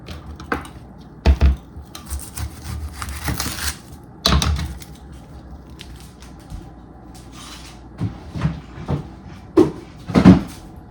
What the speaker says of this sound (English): cutting up the onion